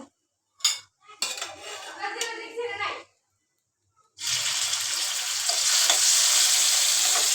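Utensils clatter against a wok amid some talking, then taro stolons hit hot oil and a loud, steady sizzle takes over until the end.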